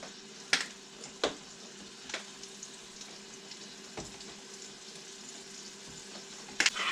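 Pot roast searing in hot oil, a steady broadband sizzle with occasional sharp pops and crackles, moderately quiet and close, with no talking.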